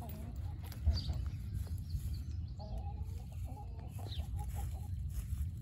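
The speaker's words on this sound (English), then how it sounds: "There's this one chicken who always walks alone while the other two chickens are together." A small backyard flock of three chickens clucks softly at a distance outdoors, with low, intermittent calls over steady background noise.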